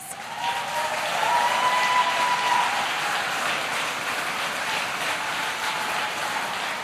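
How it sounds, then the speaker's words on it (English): An audience of Lockheed Martin workers in Alabama gives steady, sustained applause at a presidential speech, loud and continuous with no one talking over it. "They deserve a round of applause."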